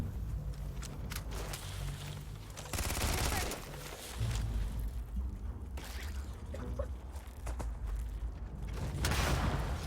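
Grenade blasts and bursts of gunfire from a video game battle crackle continuously, with rapid shots and low booms layered together under steady combat noise.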